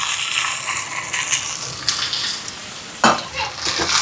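Mustard seeds, fennel, dried chillies and shallots fry steadily in a hot pan for a Jaffna fish curry, a continuous close sizzle with scraping stirs and a sharper clatter near the end.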